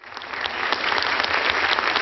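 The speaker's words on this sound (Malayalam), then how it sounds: "ഒരു നല്ല കയ്യടി കിട്ടിയാൽ കൊള്ളാം" An audience at a stage show claps in a swelling burst of applause, dense and steady, rising quickly and sustained at moderate loudness.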